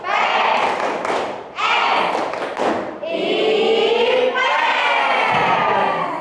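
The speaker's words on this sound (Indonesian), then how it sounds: "kemudian sekarang tepuk IPS." A classroom of pupils performs a rhythmic clapping chant in bursts, loud and close, with children's voices shouting along between the claps.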